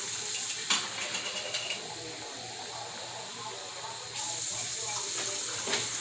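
Water sloshes and splashes inside a can as it is swirled to rinse out leftover chili, with a hissing, running-water wash and a few sharp clinks, close and fairly quiet.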